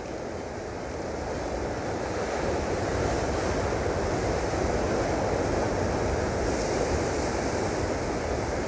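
Ocean waves at Gesing beach in Gunung Kidul, Yogyakarta, a steady broad wash of surf that rolls on without pause, with some wind noise mixed in.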